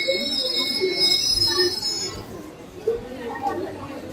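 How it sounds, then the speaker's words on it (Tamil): Train 16344 pulling into platform 3 at Palani railway station, its wheels letting out a loud, sustained high-pitched squeal that fades partway through, followed by low rumbling and metallic clinks, with someone speaking nearby. "ஓகே, இந்த ட்ரெயின் வந்துருச்சு."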